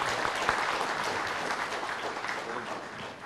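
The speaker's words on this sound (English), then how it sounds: "Please give him a good round of applause." Conference audience at a diabetes medical session applauding steadily for a few seconds, a dense wash of clapping from a hall crowd heard at moderate distance.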